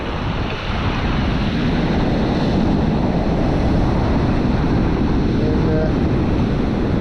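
Ocean waves breaking on a beach, a loud continuous roar of surf mixed with heavy wind noise against the microphone, filling the whole stretch without pause.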